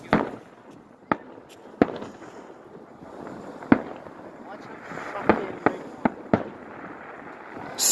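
New Year's fireworks burst outdoors in a windy night, with a string of sharp, loud bangs spread irregularly over several seconds above a steady rumble of wind and crowd noise.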